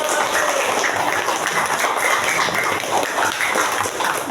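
A classroom of pupils claps their hands together in a dense, steady wash of applause that carries on without a break, loud and close.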